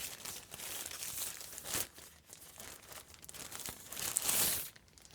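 Plastic packaging crinkles and rustles in several bursts, close and fairly quiet, as a NuPhy Halo65 keyboard is unboxed.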